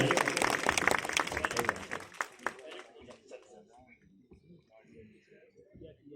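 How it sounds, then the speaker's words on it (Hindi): An audience at a welcome event for IAS toppers bursts into applause, loud dense clapping for about two seconds that quickly fades, leaving scattered claps and a voice speaking. "जरूर तालियां मंडरायल क्षेत्र के लिए।"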